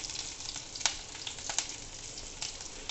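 Ginger, garlic and chillies frying in hot oil in an Indian kitchen, a steady close sizzle with occasional sharper crackles and spits throughout.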